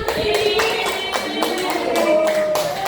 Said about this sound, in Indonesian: kasih tepuk tangan buat anak-anak